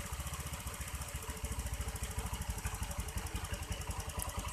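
A Honda Vario 125 motorcycle engine idles steadily up close, its rapid, even chugging pulse filling the clip as the idle screw setting is adjusted.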